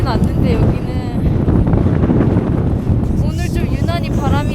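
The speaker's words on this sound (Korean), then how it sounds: "오늘 좀 유난히 바람이 거세다고 하네요." Strong, steady wind buffets the microphone high on Kilimanjaro's barren desert zone near the summit, roaring loud and constant throughout, with a person speaking over the gusts.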